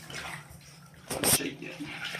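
A dog is rinsed in the bath, with running water splashing in the tub and a brief louder gush midway while a person talks over it.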